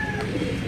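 Domestic pigeon cooing softly at a loft, a low murmuring coo carried over a faint background hum, with no voices in the moment.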